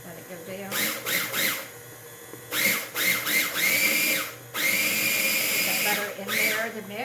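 A kitchen blender pulsing a butter mixture for a lemon curd cheesecake, with loud whirring bursts that start and stop in an uneven rhythm across several seconds, and brief pauses between pulses.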